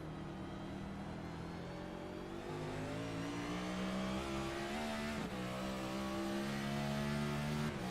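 Race car engine roaring onboard during a hot lap at the Chicago street race, a loud, steady high-revving tone with harmonics rising through the gears and a brief lift near the braking point.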